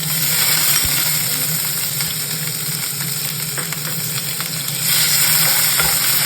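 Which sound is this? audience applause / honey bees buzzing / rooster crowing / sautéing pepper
sautéing pepper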